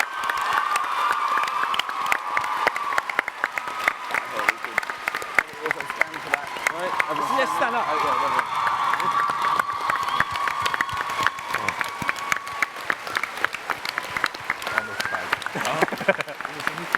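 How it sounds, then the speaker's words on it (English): A large crowd at a TwitchCon Dream SMP panel claps and cheers continuously, dense rapid applause with shouts rising and falling, while a voice speaks over it briefly. "can we give an almighty round of applause so loud every corner of the globe?"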